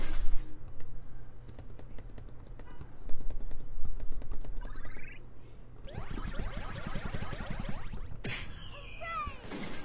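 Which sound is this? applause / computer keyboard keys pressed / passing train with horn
computer keyboard keys pressed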